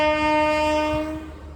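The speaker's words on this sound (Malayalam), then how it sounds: "ട്രെയിൻ വരുന്നുണ്ട്." A train horn blares in a long, steady, loud blast on a railway line as the train approaches, with a low rumble beneath that fades slightly toward the end.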